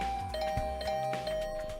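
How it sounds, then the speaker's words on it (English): A doorbell in The Hundred Line chimes in a quick flurry of repeated tones, clear and fairly close over a low background hum. "Didn't like the sound of that flurry of doorbell rings."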